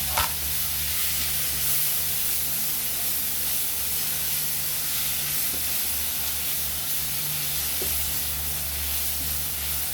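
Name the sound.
sautéing ingredients for chaofan fried rice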